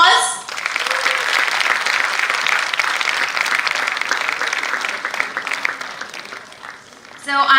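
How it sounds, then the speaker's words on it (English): Sustained audience applause fills a conference auditorium at a millet conference, steady and fairly loud for several seconds before dying down, with brief voices at the start and end. "let's start with a huge round of applause."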